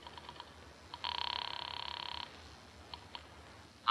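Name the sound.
telephone being picked up and dialed, radio drama effect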